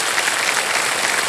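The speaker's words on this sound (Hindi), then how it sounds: "तालियां बजती रहें इनके लिए देवी और सज्जनों" Studio audience applauding on the quiz show Kaun Banega Crorepati, a short burst of dense, steady clapping from a large crowd.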